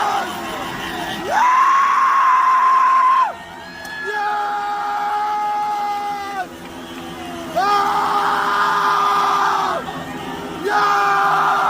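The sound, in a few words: people screaming in a video of Iranians reacting to strike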